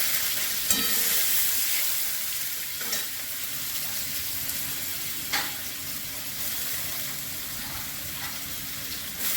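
Onions and carrots stir-fry in a hot pan for egg chow mein, a steady bright sizzle running throughout, with a few sharp clinks of a utensil scraping and stirring the vegetables.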